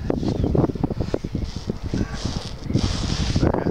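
Strong wind blowing outdoors by the water, buffeting the microphone in constant low rumbling gusts.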